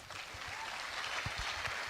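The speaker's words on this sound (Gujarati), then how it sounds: "દરેક પ્રશ્ન તાળીઓ પડે છે." Audience applause at a Q&A session in Surat, a steady, fairly faint wash of many hands clapping together throughout, with no voices over it.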